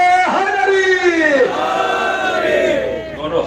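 A crowd at a Jashn-e-Abbas religious gathering in Naugawan Sadat, Amroha, loudly chants a religious slogan together, with rising and falling voices blending into one sustained collective shout.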